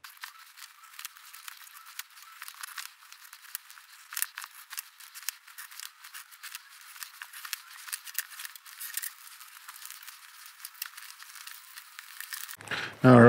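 Paper deck box template for Bakugan being cut out with scissors or a blade: repeated soft snips, rustles and crinkles of paper in an irregular rhythm, close and fairly quiet, ending with a louder handling noise.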